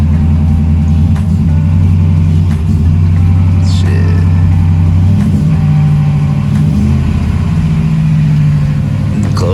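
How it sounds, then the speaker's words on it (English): A lifted Ford F150 truck engine runs steadily at close range, a loud low idle rumble lasting nearly ten seconds, with a brief spoken word and faint clicks over it. "Let the truck run for a little bit."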